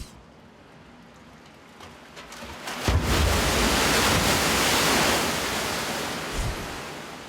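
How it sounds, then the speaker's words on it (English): Surging rush of water from a lab wave machine driving a huge artificial tsunami down a 180-metre chute, building from a low roar into a loud, sustained crashing wash that slowly eases. "This machine can generate waves more than 3 meters high, propelling 300 cubic meters of water down a 180-meter long chute."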